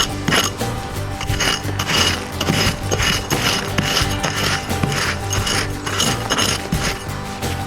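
A fleshing scraper is worked over a raccoon hide, giving repeated rasping, scraping strokes in a steady rhythm at close range, alone without talk.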